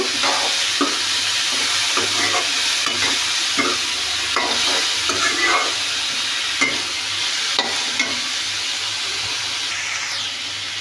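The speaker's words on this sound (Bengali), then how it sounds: "আমি লাড়াচাড়া করে সুন্দর করে ভেজে নেব" Green tomatoes frying with turmeric in a pan, a constant close sizzle and hiss with repeated scraping strokes of stirring throughout.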